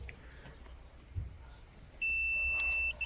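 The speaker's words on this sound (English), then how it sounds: "let's beep the speakers themselves." Audi A4 B8 car speaker emitting a diagnostic test beep, a single steady high tone lasting about a second after a quiet stretch of faint background noise.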